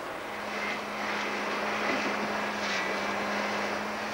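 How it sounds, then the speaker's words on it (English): A jet plane during the Rocky Mountain crash sequence of the action film Cliffhanger: a steady, fairly loud engine roar and whoosh drone continuously with a low hum beneath and no voices. "the memorable Rocky Mountain plane crash in the action-adventure film Cliffhanger"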